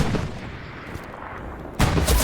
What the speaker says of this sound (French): des canons sur nous